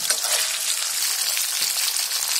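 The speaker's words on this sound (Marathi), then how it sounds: "हे चिकन आपलं आहे ना तेलामध्ये चांगलं असं फ्राय करून घ्यायचं पहिलं." Chicken pieces frying in a shallow layer of oil in a home kitchen, a steady dense sizzle that stays loud and even from start to finish with no voices.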